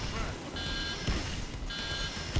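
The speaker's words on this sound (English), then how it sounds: "Turn off the alarm, please." A repeating electronic alarm tone in the heist video game PAYDAY 2, pulsing steadily in two long beeps over a dense game soundscape.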